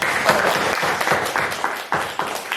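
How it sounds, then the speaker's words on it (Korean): A church congregation at a Baptist Sunday worship service claps together in praise, a fairly soft but continuous wash of clapping with a few sharper bursts, heard alone without speech. "우리 하나님께 크게 박수를 한번 영광 올려드리겠습니다"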